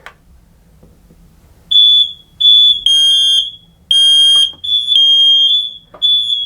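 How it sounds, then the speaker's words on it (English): Shrill, piercing alarm beeps from mains-powered interlinked smoke alarms sounding on test repeat in bursts and overlap, as though several units sound together, loud and near after a moment of quiet room hum. "not only could we hear that alarm going off there"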